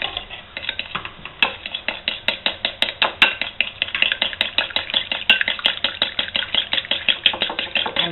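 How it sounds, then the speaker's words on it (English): A utensil stirs an egg-yolk sauce in a pan for vol-au-vents, giving a steady run of quick, close scraping clicks against the metal that continues without pause. "And continue stirring"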